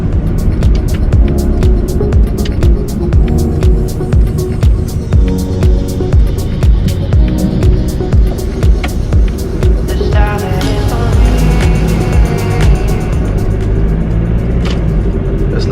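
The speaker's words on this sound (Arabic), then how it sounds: "صوت السيارة عندكم عالي. سيارة ديزل فان مرسيدس." A Mercedes diesel van engine runs continuously with a loud, steady low rumble and throbbing, heard from close by with a clattering texture throughout and no talking.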